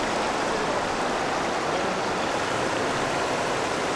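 A mountain stream rushes steadily through Bisugumi valley in Hwacheon in early spring, a continuous broadband wash of flowing water, close and even throughout with no voices.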